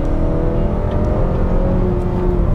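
A 2019 Mazda3 AWD engine hums steadily at low pitch while driving, a loud constant drone with road rumble and a faint whir, no voices.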